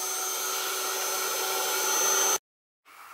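A heat tool blows hot air over ink on a handmade card, a steady loud whooshing whine with a high tonal hum that cuts off abruptly, then restarts faintly after a short silence.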